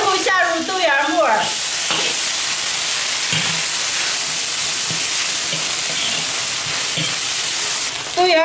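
Vegetables with chili paste and bean sprouts stir-fry in a wok, a loud, continuous sizzle with scraping stirs, and a voice speaks briefly at the start.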